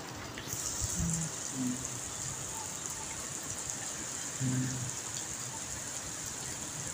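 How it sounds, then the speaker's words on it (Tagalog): A sudden rain shower falls steadily at a moderate distance, a soft even hiss with a few faint scattered clatters and short bursts of background noise, fairly quiet overall. "Biglang buhos ang ulan."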